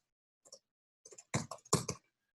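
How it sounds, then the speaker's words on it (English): A few quiet keystrokes on a computer keyboard, in sparse clusters of taps with the firmest presses near the end and silence between them. "So go ahead and type library tidyverse."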